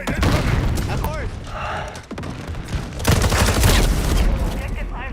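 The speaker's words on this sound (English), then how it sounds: "Grenade incoming." Grenade blast and rapid gunfire in Modern Warfare 4 multiplayer, a continuous loud barrage of automatic shots with a heavy boom around the middle, while players talk over the fighting.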